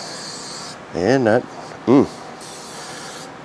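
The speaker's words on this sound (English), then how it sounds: "So let's spray him down good." Butter-flavored cooking spray hisses from an aerosol can onto chicken in two close bursts, with a brief spoken phrase between the sprays.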